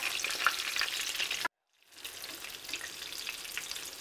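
Whiting fillets frying in a pan give a steady, close crackling sizzle that cuts out abruptly for a moment, then resumes a little softer.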